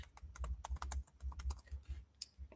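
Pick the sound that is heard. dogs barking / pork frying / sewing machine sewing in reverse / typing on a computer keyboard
typing on a computer keyboard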